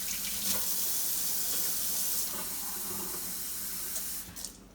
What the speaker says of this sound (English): what we're going to do next is just add a little bit of water to that